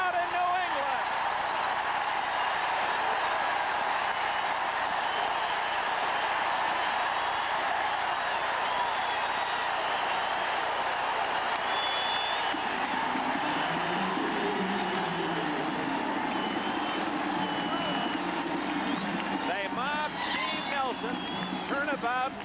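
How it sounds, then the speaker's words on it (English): A large stadium crowd roars at a 1979 NFL game between the San Diego Chargers and the New England Patriots after an interception, a sustained loud wash of cheering under continuous excited play-by-play commentary. "listen to this crowd in New England."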